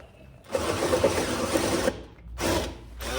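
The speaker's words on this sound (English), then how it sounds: "Air compressor's running." An air compressor runs in a home garage workshop, its motor chattering in a loud, rapid mechanical burst of over a second, then a short second burst after a brief pause.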